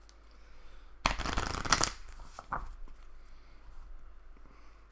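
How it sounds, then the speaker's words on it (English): A deck of playing cards riffle shuffled during a Marvel Champions card game session, giving one close, dense burst of flicking cards lasting about a second, followed by a few soft bridging taps and handling sounds. "So, I'm going to shuffle."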